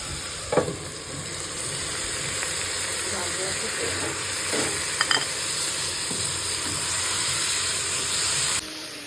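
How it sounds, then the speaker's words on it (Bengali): Vegetable fried rice stir-frying in a pan with oyster, soy and tomato sauces and boiled rice, giving a steady, loud sizzle and hiss with a few brief scraping stirs. "আগে বয়েল করা রাইসটা এখন দিয়ে দিব। দেওয়ার পর ভালোভাবে মিক্স করে নেব।"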